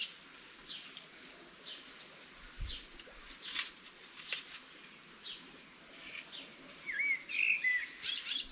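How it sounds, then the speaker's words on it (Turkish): Birds chirp and tweet intermittently over a quiet outdoor background, with short high calls scattered throughout and a brief trill near the end. "Kuş sesleri içinde."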